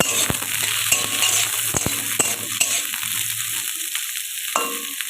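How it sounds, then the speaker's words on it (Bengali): Onion and garlic fry in oil while being stirred, a constant sizzle broken by sharp spoon clicks against the pan at irregular intervals, close and fairly loud. "দু মিনিট মতো আমি নেড়ে চেড়ে ভেজে নেব"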